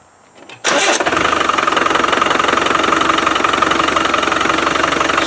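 Land Rover Defender 300Tdi diesel engine cranks briefly and catches, then settles into a loud, steady clattering idle close by, with a power steering pump fault under check.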